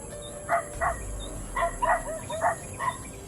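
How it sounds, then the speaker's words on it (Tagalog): Several short dog barks in a loose series, somewhat distant, over a background of insects and faint birdsong. "parang palapit na yung mga aso"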